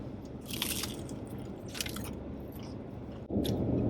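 Crunchy bites close to the mic into a Taco Bell chalupa with a crunchy cheddar shell, with a few loud crackling snaps into the brittle shell and chewing in between.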